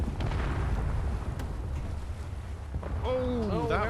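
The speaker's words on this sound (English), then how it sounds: "Explosions everywhere. I can hear somebody firing off grenades." Video game explosions and grenade blasts boom in a continuous loud rumble, with a sharp burst near the middle, then a whistling warble at the end.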